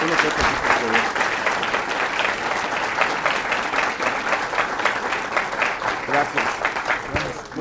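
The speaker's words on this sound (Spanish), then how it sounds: "Por favor, un aplauso." Sustained audience applause at a legal lecture on litigation strategy for precautionary measures, dense steady clapping from a crowd lasting throughout, with faint voices beneath.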